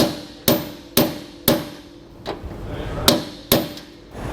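Sharp metallic hammer strikes drive a serrated bolt into a trailer spring hanger through a socket, about eight evenly spaced close blows with a short pause midway, on a 2022 Grand Design Imagine with bronze bushings.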